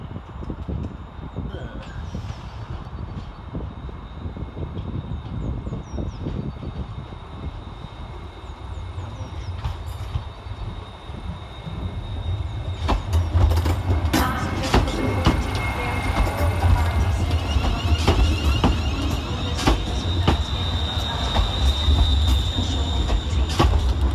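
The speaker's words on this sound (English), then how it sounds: "Next into the station, terminating with a ScotRail service off of Paisley Canal" ScotRail class 380 electric train, unit 380-020, arriving at Glasgow Central station: a steady station hum first, then a louder rumble of wheels and motors with brief squeals as the train rolls in close by.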